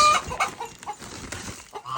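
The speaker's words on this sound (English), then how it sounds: "the chickens stay inside the coop" Chickens on a farm cluck and squawk inside their coop in quick, overlapping bursts, fairly close and loud, with no talking.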